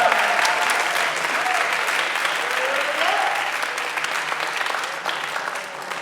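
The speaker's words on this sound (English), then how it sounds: "Round of applause." Steady applause from a school arts day audience, dense clapping sustained throughout with faint voices calling out underneath.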